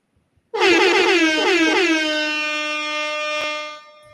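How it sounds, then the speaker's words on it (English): A single loud air horn blast sounds, wavering briefly at the start, then holding a long, steady blare before cutting off. "Oh, that was the perfect time for the air horn."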